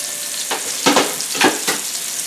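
Chicken pieces, gizzards and liver, sizzle and crackle while shallow frying in hot oil in a pan, with a few louder bursts of spitting as pieces are turned or added.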